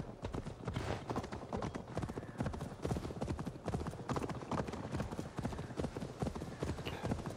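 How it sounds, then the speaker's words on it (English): Horse hooves galloping at a steady clip-clop rhythm in Assassin's Creed Valhalla, loud and continuous throughout, with occasional faint game voices underneath. "On a horse."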